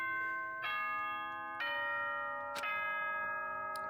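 Three evenly spaced doorbell-like chimes ring out clearly in the Danganronpa video game, each a bright tonal strike that lingers and decays over a quiet background.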